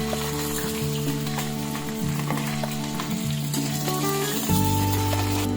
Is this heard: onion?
yes